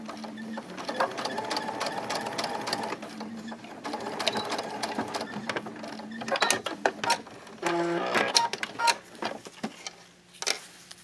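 A sewing machine stitches an invisible zipper into a seam, running in rapid mechanical bursts that stop and restart, with short pauses, clicks and handling noises between runs, close and fairly loud.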